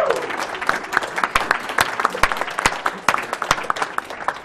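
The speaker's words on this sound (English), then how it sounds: "Keep clapping" An audience at a live speedrunning charity marathon claps steadily, a dense patter of many hands with sharp individual claps standing out, sustained throughout.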